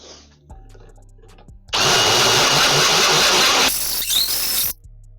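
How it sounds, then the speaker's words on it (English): A tungsten carbide burr on a power tool grinds a Jeep 4.0 intake part, a loud close whine that holds for about three seconds, with a brief higher squeal before it cuts off. "it's carbide burr time. Tungsten carbide"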